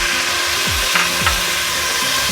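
Spice paste for mutton rezala sizzles steadily in a pan with water just added, a constant loud hiss and bubbling with a few faint scraping stirs, close up and with no voices.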